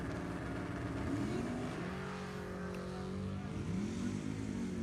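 A 1968 Chevrolet Camaro drag racing car at an NHRA E.T. finals strip, its engine roaring loud and steady with rising and falling pitch as revs shift, mixed with other engine noise nearby.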